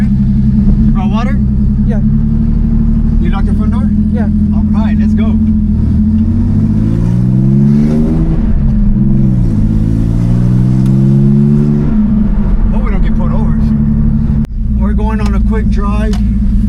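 A twin-turbo RWB Porsche 930 drives and accelerates, its engine note climbing and falling through gear changes, loud and close inside the car while people talk over it.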